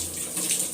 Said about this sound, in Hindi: अभी इसमें डालते हैं हम पानी और इसकी सीटियाँ करते हैं